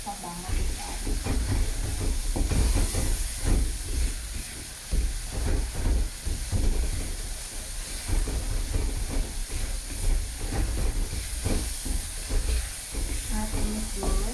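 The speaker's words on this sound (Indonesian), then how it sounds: "Nah, tumis dulu sampai minyaknya keluar, sampai benar-benar wangi." Spice paste for Padang-style gulai fries in hot oil in a pan with a continuous close hiss and sizzle, while someone talks over it.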